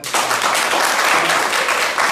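An audience claps for itself in a hall, a brief, loud, dense burst of many hands clapping that starts abruptly and continues evenly for about two seconds.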